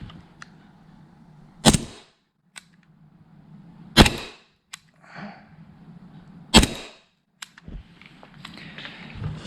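A Novritsch SSP-1 airsoft pistol with reduced-power modification firing through a chronograph: three sharp, loud, close single shots spaced a couple of seconds apart, with small clicks and handling noise between them.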